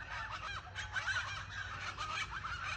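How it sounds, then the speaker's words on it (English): Birds, goose-like, honking and calling steadily outdoors on an early morning walk with dogs, a dense overlapping chorus at moderate distance with no talking. "What are those birds?"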